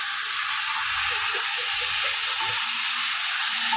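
Food sizzling and frying in a hot wok (kadai) in a home kitchen, a steady loud broadband hiss throughout with faint low clatter underneath.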